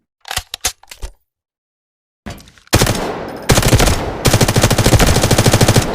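Gunfire from a weapon in the video game Delta Force: a few quick single shots, a pause, then loud sustained automatic bursts with rapid rhythmic reports, close and dominant.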